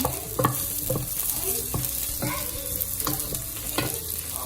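Garlic fries in a pan with onions for chicken tinola, giving a close, steady sizzle broken by regular utensil scrapes and knocks as it is stirred.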